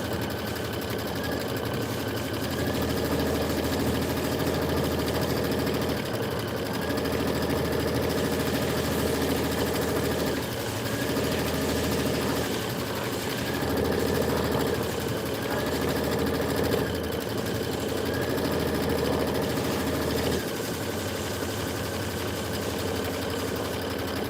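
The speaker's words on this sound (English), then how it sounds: "Your embroidery is just a straight stitch with the embroidery arm moving around." An embroidery machine sews a straight stitch on muslin as its embroidery arm moves around, giving a steady, continuous mechanical hum and rapid needle whir throughout, close by and without speech.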